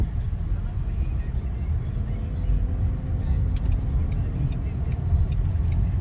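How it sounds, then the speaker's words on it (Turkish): A car pulls away from a stop on a driving-test route, its engine rumbling steadily and close inside the cabin, a low, even drone with no sharp peaks. "Evet gaza geçip kalkışımızı yapıyoruz"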